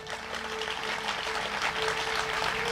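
A crowd claps steadily throughout at a religious discourse, a dense, continuous wash of many hands with no voices over it.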